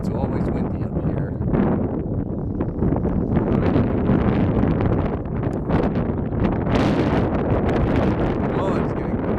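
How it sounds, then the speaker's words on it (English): Strong, gusty wind buffets the microphone at a high mountain overlook in Utah, a loud continuous roar with surging blasts throughout. "Hopefully you can hear me over the wind. It's always windy up here."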